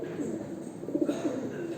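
Soft, low cooing of tumbler pigeons in a steady murmur, close by, with faint background hum and no talking.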